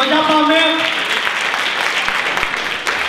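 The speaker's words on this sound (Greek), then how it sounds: "να το χειροκρότημα, για πάμε!" Crowd applause breaks out at a Greek Tsiknopempti singing event in Agios Nikolaos, loud at first and then easing off, with voices briefly audible over the clapping at the start.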